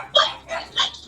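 Excited dogs let out three quick, high yips and barks, close and fairly loud, in a short, uneven burst.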